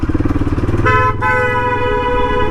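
A loud motorcycle engine rumbles, then a bright, sustained horn honk sounds close by for over a second, with the engine continuing underneath.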